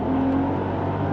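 A Mercedes E55 AMG Kompressor estate's automatic gearbox upshifts at about 6,500 rpm: the engine revs high and steady, a brief tonal whine riding on the drone before it settles, with no talking.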